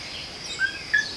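Birds singing outdoors among trees and plants on rural land, a few faint high chirps and short whistles over a soft insect-like background hiss.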